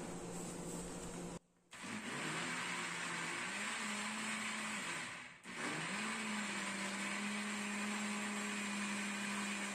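An electric blender mixing yogurt cake batter whirs steadily at a high pitch, cutting out twice briefly before spinning back up and continuing its constant drone.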